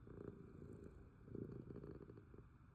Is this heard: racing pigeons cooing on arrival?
no